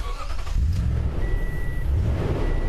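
A pickup truck engine cranks and catches, then settles into a loud, rough idle nearby, with a faint steady tone sounding briefly in the background.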